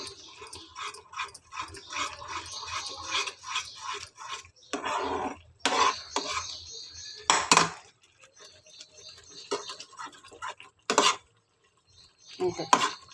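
A spoon stirs a thickening mixture in a pan on a stove over raised flame, giving repeated close scraping and clinking strokes in bursts with pauses, while someone talks at times.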